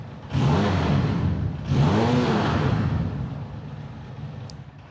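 A Modiwei Street Fighter 500cc motorcycle, 2026 model, revved while standing: two sharp throttle blips climb and fall back into a steady idle rumble, close and loud, with no talk.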